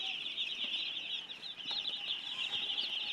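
Chickens stir and cluck inside a poultry shed of one-day-old chicks, a steady high-pitched peeping chorus with faint soft clucks and wing flutters throughout, continuous and close.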